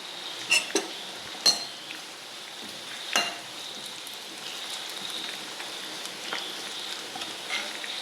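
Onion drops into a hot pan and fries with a steady, soft sizzle, broken by a few sharp clicks and scrapes of a utensil stirring against the pan.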